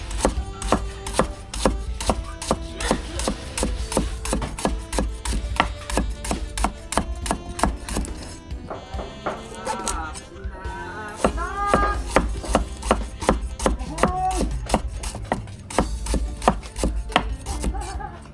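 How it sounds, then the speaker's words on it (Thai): A knife chops ingredients on a wooden board in quick, steady knocks, pausing briefly midway before resuming the fast rhythmic chopping close up for the rest of the stretch, with no talk. "หั่นหัวชีไข่ก่อน"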